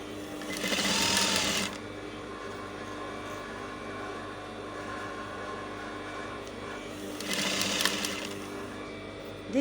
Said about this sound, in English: You are stitching along the line.